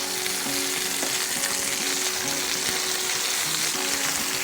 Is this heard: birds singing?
no